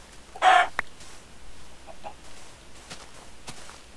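Chickens in Minecraft cluck in short, separate bursts, one louder cluck near the start followed by a few fainter ones over a quiet background.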